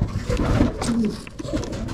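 Domestic pigeons coo from a breeding loft of post pigeons, their low soft calls rising and falling close by against steady background noise.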